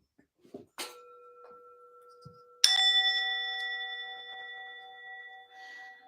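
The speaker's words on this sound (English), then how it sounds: "I might ring one of these bells just to help me cleanse the air" A meditation singing bell is struck once in a quiet room, ringing out with a clear bright tone that sustains and slowly fades over several seconds, preceded by a softer chime and small handling sounds.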